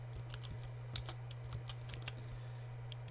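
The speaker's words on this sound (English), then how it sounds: "Next, we type in sum product" Quick, light keystrokes on a computer keyboard while entering an Excel formula, an irregular close patter over a steady low electrical hum.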